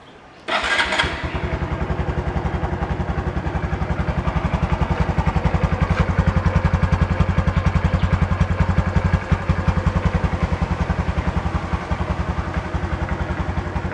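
A Honda 125 Super Cub engine catches with a sharp burst, then settles into a steady, even idle, a rapid regular chugging heard up close.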